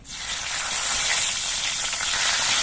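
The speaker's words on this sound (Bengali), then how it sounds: "এবার এই তেলের মধ্যে দিয়ে দিচ্ছি দুটো তেজপাতা" Two bay leaves drop into hot oil left from frying fish in a kadai, producing a sudden, loud, steady hiss of sizzling that swells slightly and holds throughout.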